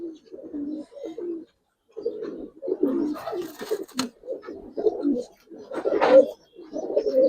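Giribaz pigeons coo in repeated low, throaty phrases with short pauses, close by, one louder burst near the end, with faint flutter and shuffling in the background.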